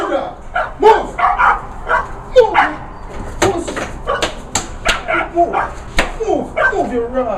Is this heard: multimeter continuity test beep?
no